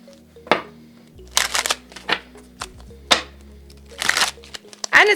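Tarot cards are shuffled in several quick, crisp riffling bursts close by, with short gaps between them and a voice talking over the shuffling.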